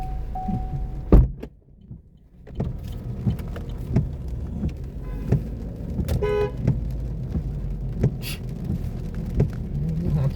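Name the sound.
car horn honking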